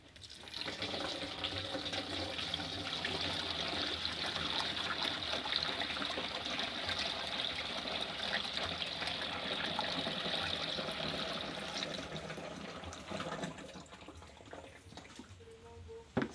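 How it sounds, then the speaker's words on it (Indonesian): Water pours steadily into a 20 liter jerrycan while mixing a fish probiotic solution, a continuous gushing splash that holds for about thirteen seconds before tapering off to quiet. "Setelah ini kita tambahkan air sampai volume sekitar 18 liter."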